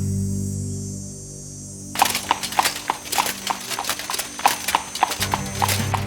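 A horse's hooves clip-clop in a brisk, even rhythm, close and distinct, after about two seconds of low droning ambience. A brief whinny rises near the start of the hoofbeats.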